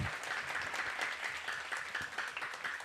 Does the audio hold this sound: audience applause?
yes